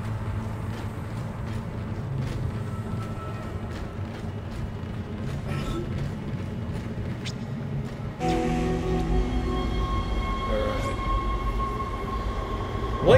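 A tram rumbles along in the Dead Space video game, a continuous low mechanical roar with faint creaks that shifts to a heavier, tonal hum about two-thirds through.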